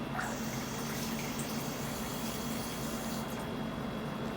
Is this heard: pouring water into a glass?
yes